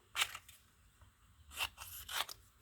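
Scissors snip through magazine paper in a few separate crisp cuts, close and fairly quiet, with pauses between strokes.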